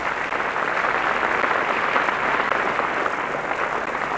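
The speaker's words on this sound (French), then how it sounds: "vous apercevez la princesse, applaudie par le public." An audience at an evening tournament applauds a princess, a steady, dense wash of clapping from many hands that holds for several seconds without pause.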